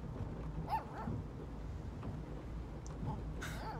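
A dog in the video game Life Is Strange 2 gives a few short, quiet barks and yips over soft game ambience, faint and spaced out, with no speech over them.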